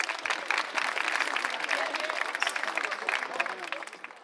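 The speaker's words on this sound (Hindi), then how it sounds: "तालियां रुकनी नहीं चाहिए बच्चों।" Students applaud at a polytechnic's annual function, a crowd clapping in uneven bursts with voices talking and calling out over the clapping.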